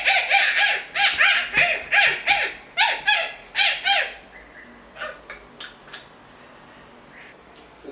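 A child imitates a monkey with a rapid run of loud, rhythmic hooting calls, about a dozen close bursts, then a few scattered quieter squeaks trailing off.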